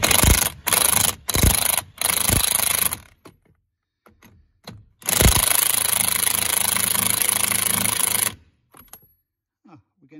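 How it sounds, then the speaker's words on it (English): An impact wrench tightens the top shock absorber bolt on a Mercedes Sprinter van. Three short rattling bursts come close together, then after a pause one longer sustained burst runs for about three seconds before stopping. "I'm going to go with the impact for a start"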